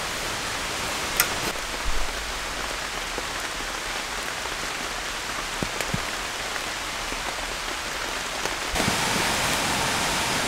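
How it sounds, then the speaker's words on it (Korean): Continuous rain falling outside a tarp tent in a rainforest, an even, hissing wash with scattered louder drip taps, close and alone with no voices, swelling slightly louder near the end. "밖에 비가 와요."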